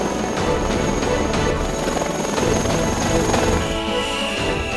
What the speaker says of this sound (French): Le groupement aéromobile et sa quinzaine d'hélicoptères réalisent dans le même temps un assaut en profondeur.